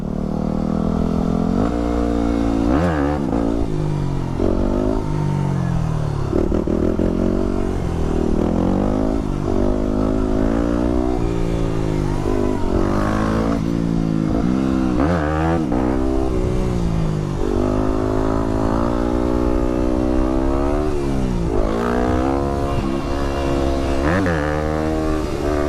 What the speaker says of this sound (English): here I am doing wheelies again